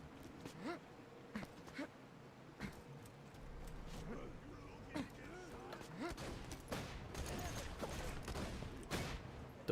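Gunfire in the shooter Borderlands, scattered sharp shots and bursts over game sound effects, with someone talking now and then.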